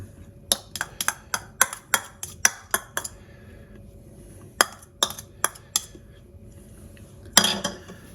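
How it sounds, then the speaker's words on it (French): A metal spoon repeatedly taps and scrapes a dish while onion is spread over roast chicken and potatoes, giving sharp clinks in quick bursts, a pause, then a few more knocks and a final scraping clatter. "je vais prendre une cuillère et je vais répartir l'oignon un peu partout"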